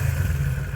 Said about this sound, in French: dans la rue, vous pourrez croiser des motos ou des scooters plutôt de ce genre-là